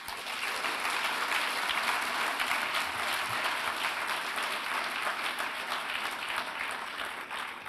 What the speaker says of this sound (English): what about a round of applause for all of our finalists?